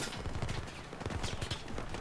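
Gunfire in the video game Battlefield 4 crackles as rapid, repeated shots in a dense burst, fairly faint and continuous over a short span.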